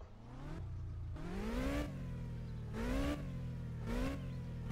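A car engine revs repeatedly, rising and falling in pitch several times in loud, close bursts with no talking.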